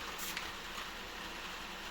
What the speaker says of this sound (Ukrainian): Опять дощ спустився.